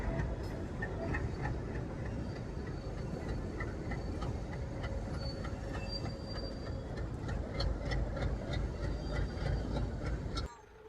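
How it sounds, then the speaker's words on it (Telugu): A diesel locomotive moves through Secunderabad railway station, its engine rumbling at a distance with the rattle and squeal of wheels on track. Faint station noise runs underneath until the sound cuts off abruptly at the end. "ఒకసారి మీరు కూడా వినండి ఎంత క్రేజీ సౌండ్ ఉంటుంది ఈ ఇంజన్ది."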